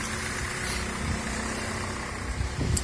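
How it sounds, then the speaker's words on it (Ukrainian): Nissan NV400 passenger van with its engine running, a low steady idle hum heard close and even, with a slight bump near the end and no talking. "зараз мотор працює"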